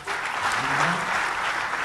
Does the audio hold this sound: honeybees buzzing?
no